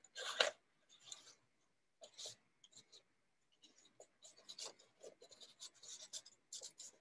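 A paper card being folded and creased by hand during a kids' Valentine craft, with soft rustling, scraping and rubbing strokes in scattered bursts, quiet and close.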